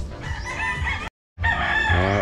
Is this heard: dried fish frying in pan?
no